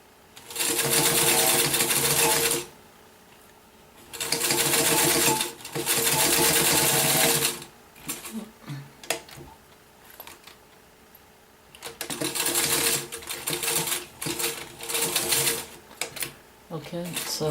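A sewing machine stitches along the bottom of a fabric barrel bag in several loud, steady bursts of whirring, separated by pauses with handling noises and a voice speaking in between.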